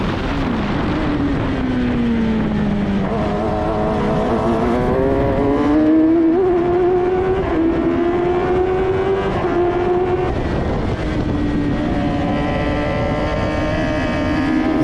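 Onboard an F1000 race car at Snetterton, the engine screams loudly and constantly, its pitch rising and falling through gear changes and corners, with wind buffeting throughout.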